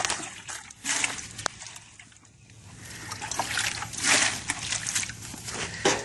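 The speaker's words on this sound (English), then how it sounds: "Get your sponge, add your water to it." Water poured into a bucket for a tile-grouting sponge, a close, fairly loud run of trickling and sloshing that dips briefly midway and then builds again with splashy surges.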